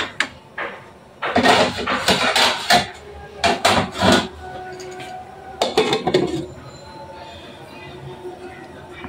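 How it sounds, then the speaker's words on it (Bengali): A lid set down on a cooking pot of loitta (Bombay duck) fish on a lit stove gives a few loud metallic clanks and clatters in bursts, with quieter kitchen sounds between. "আমি ঢাকনা দিয়ে ঢেকে দিব,"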